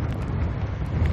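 Strong gusting wind buffets the microphone on a fishing boat out for webfoot octopus off Incheon, a steady low roar with dull rumbling throughout and no voices.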